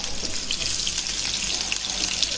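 Onions hit hot oil in a kadai and fry with a loud, dense, continuous hiss and sizzle, close up and steady throughout.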